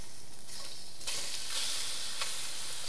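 Shrimp sizzles in hot oil in a pan as a steady, bright hiss. The hiss swells louder partway through as the shrimp are stirred.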